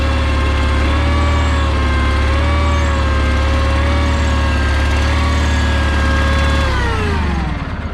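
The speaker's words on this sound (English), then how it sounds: "Turn the key. Fires right up, no problem." A John Deere 318 lawn tractor engine runs steadily at a loud, even idle, its drone holding constant before easing slightly near the end, with no voices.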